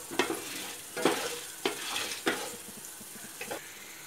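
Peppercorns, cumin and other spices dry-roasting in a pan for a Chennai seer fish curry: a soft crackling sizzle broken by five or six scraping stirs at irregular intervals, close and fairly quiet, with no one speaking.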